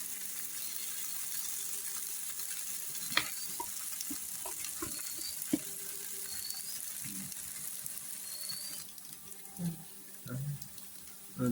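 Egg omelette fries in a pan for noodles, a soft, steady sizzle with scattered clicks and scrapes of utensils, ending in a few louder knocks; quiet throughout.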